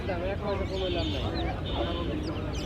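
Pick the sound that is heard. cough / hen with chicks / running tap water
hen with chicks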